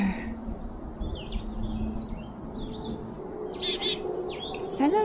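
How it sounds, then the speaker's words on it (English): Chickadees chirp and chatter at a campground in a state park, sending out short, high calls in scattered bursts. The birds sound nearby, and a faint outdoor ambience runs underneath. Several quick calls come near the end. "Chickadee dee dee."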